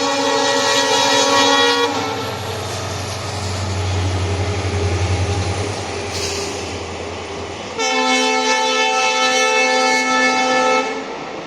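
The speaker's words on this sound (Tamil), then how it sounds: "உங்கள் நேரத்துக்கு கரெக்டாக ட்ரெயின் வருது" A train pulls into a station, sounding its horn in long sustained harmonic blasts, a low rumbling engine beneath, then a second loud horn blast near the end, close and prominent with no talk.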